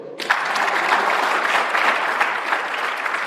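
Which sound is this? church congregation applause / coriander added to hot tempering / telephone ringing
church congregation applause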